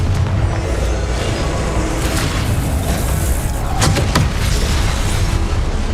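The Confringo explosion spell in Hogwarts Legacy bursts into loud, rumbling booms with crackling blasts, a dense continuous roar of combat effects.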